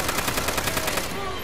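Rapid automatic gunfire in the Call of Duty video game, a fast regular burst of loud shots that cuts off near the end, leaving a short ringing tail.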